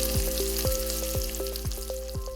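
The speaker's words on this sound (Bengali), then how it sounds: "স্টার ফ্রাইং করা হয় বড়সড় গোলাকৃতির কড়াইতে।" Food stir-fried in a large round wok sizzles loudly and continuously, with a crisp frying hiss and rhythmic scraping strokes of the stirring tool repeating every half second or so.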